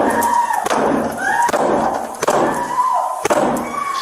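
Police ramming a solid barricaded door, several heavy thuds landing roughly once a second, loud and close, with muffled shouting and commotion around them.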